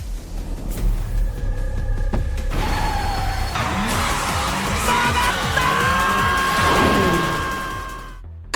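A Toyota and a Porsche race closely during an overtake. Their engines whine and sweep up and down in pitch as they pass, over a rumbling, crowd-like wash of noise that fades at the end.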